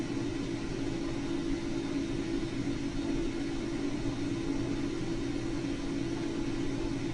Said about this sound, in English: the operator pushes the run switch and Alvin begins driving